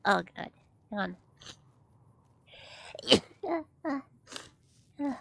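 A single sharp sneeze breaks up a stretch of close, casual speech. It comes mid-clip, is loud and breathy, and has voices before and after it.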